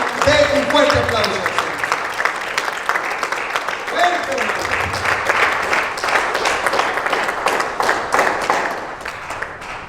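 An audience claps loudly in a sustained wave of applause, with scattered shouts and voices rising through it.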